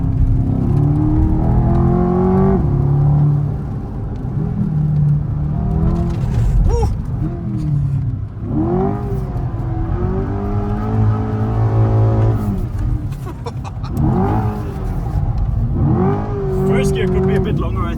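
Corvette C8 supercar engine revving and accelerating hard while drifting, loud and continuous with rising and falling pitch through gear changes, heard from inside the cabin beneath someone talking.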